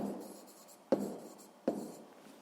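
Pen or pencil writing by hand on paper while working a sixth-grade math exercise, a soft continuous scratching broken by two sharp taps, close and quiet with no talking.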